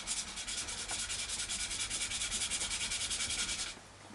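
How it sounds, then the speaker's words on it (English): A small part for a Chapman ML3 guitar rubbed back and forth on sandpaper, a steady rhythmic scratchy rasp close up that stops abruptly near the end. "I'm just going to run this on a bit of sandpaper."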